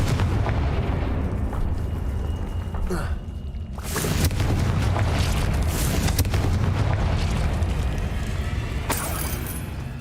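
Confringo spell blasts in the video game Hogwarts Legacy, loud booming explosions with crackling bursts, one heavy blast partway through followed by sustained rumbling debris, dense and close, with game voices mixed in.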